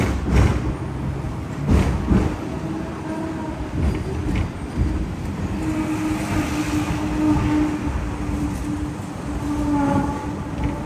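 Riding aboard a Hong Kong Ding Ding double-decker tram: steady rumbling and rattling of the car on rails with periodic clanks and clicks, a continuous close interior ride noise with no talking.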